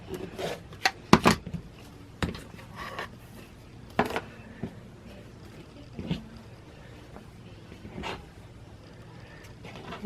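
Striped quilt fabric being cut for bias binding, with a 45-degree cut, heard as a close series of short, crisp snips and rustles spaced irregularly over quiet room tone.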